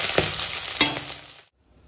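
Dry red chillies fry lightly in hot oil, a steady close sizzle with a couple of stirring clatters, cutting off abruptly to silence near the end.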